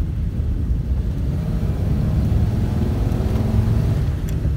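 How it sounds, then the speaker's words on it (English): A 1938 Chrysler car engine with a newly changed condenser accelerates under load, giving a steady, loud, low rumble that rises slightly in pitch throughout, heard from inside the moving car without talk. "It's accelerating"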